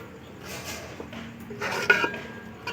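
A utensil stirs sugar and batasa into payesh in a metal pot, giving light scraping and a few close clinks against the pot's sides, with no talk.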